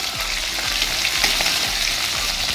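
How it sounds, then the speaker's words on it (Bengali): Bay leaf, dried chili, garam masala and cumin fry in hot oil, giving a steady close sizzle with soft stirring scrapes throughout. "এগুলো লাল লাল করে ভেজে নেব।"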